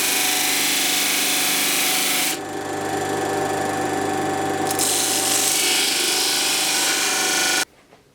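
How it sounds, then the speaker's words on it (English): A disc sander grinds steadily against wood that is held with hot melt glue, a dense, loud abrasive rasp that changes pitch slightly midway and cuts off near the end. "I'm just going to use the disc sander to just take a bit more off and flatten it."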